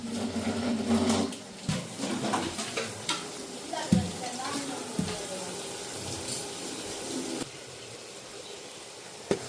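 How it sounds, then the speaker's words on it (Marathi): Chopped onion frying in a wide, shallow pan until golden brown gives a crackling sizzle. A spoon scrapes and knocks against the pan repeatedly, and the sound fades to a quieter steady hiss toward the end. "हे बघा आता छान असा हा गोल्डन ब्राऊन झाला आहे"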